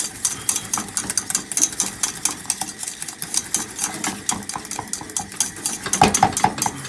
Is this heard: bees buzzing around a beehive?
no